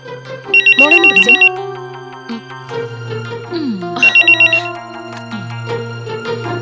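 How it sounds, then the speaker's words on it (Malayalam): A phone ringtone plays a melodic electronic tune with bursts of rapid trilling beeps, repeating twice, loud and close. "മായമ്മ ഫോൺ എടുക്ക."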